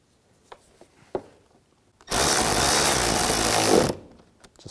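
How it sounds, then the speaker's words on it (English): A power driver runs screws back into a side mirror on a 2006-2010 Volkswagen Jetta, one loud steady whir lasting about two seconds after a few small clicks and handling taps. "Put these screws back in."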